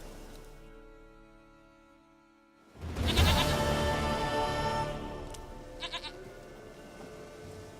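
A goat bleats in The Witcher 3 video game, a few wavering calls after a brief lull, over the game's ongoing ambient background.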